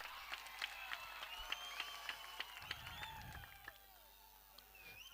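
Audience at a local cricket tournament in Sawantwadi claps faintly from a distance, with thin scattered applause and whistles or calls drifting over an open-air ground.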